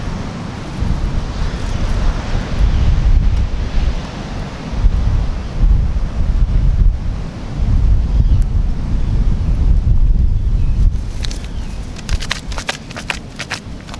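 Strong wind buffets the microphone in steady, rumbling gusts, with a faint wash of surf underneath and no voices.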